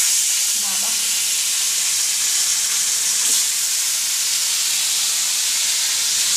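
Fish frying in a pan on a home stove, a steady loud sizzle and hiss that continues unbroken throughout with faint clinks.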